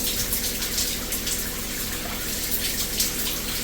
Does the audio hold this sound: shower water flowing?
yes